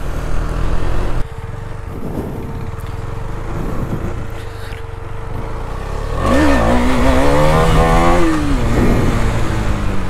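A KTM Duke motorcycle is ridden hard, its engine droning steadily. The revs climb and dip in a series of pitch sweeps as gears are shifted, with wind rush around the rider.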